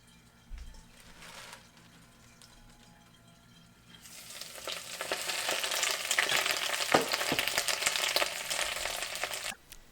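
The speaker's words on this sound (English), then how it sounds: "Gotta love that sizzle." Spinach wilting in hot olive oil in a frying pan, starting quiet with faint clatter, then swelling at about four seconds into a loud, steady sizzle with brief sharp pops and stirring sounds.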